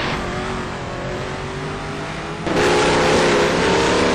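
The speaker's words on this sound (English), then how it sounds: "And I'm following David Greco, and he's having a hard time keeping that Corvette on the track" Corvette race car at the Trois-Rivieres circuit during a Blue Cup race, a loud sustained engine drone that steps up sharply in pitch and volume partway through as it accelerates.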